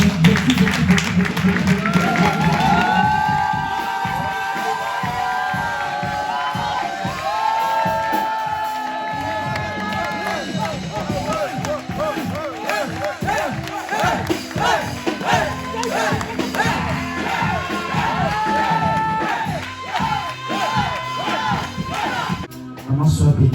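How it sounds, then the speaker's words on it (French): A church congregation cheers and applauds a mother, a sustained, loud crowd roar of clapping and shouting, with voices and music carrying over it throughout. "Je veux qu'on acclame cette maman avec beaucoup."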